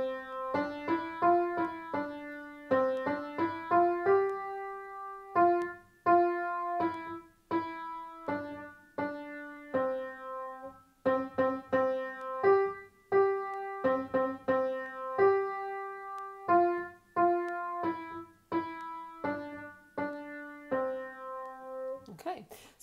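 Piano playing the beginner piece Two Little Dicky Birds from Tunes for Ten Fingers all the way through, a simple melody of clear, separate notes at a steady, gentle pace, played alone without talk.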